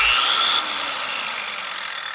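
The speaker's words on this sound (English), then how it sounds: "got me a circular saw" A steady high-pitched whine of a circular saw running, loud and close, dropping slightly in pitch after a moment and droning on.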